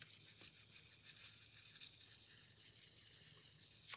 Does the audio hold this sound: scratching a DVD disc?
yes